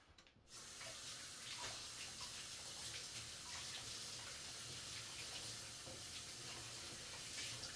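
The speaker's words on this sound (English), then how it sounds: "Let me wash my hands off here." Tap water runs steadily into a sink as hands are washed under it, a continuous close rushing splash that starts abruptly after a brief quiet moment and holds at an even level, with no talking.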